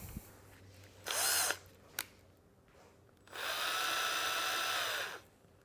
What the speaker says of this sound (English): Now, let me just go and load up my drill.